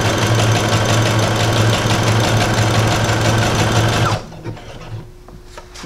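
A sewing machine stitches a zigzag seam on skirt elastic, a loud, rapid, continuous whir that runs steadily for about four seconds before stopping abruptly, leaving faint handling sounds.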